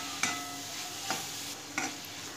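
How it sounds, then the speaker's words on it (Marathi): A spoon stirs jaggery into a coconut filling in a pan over a soft, continuous sizzle, with three distinct scraping strokes evenly spaced, close and fairly quiet. "आता हा गूळ यामध्ये चांगला मिक्स करून घ्यायचा आहे"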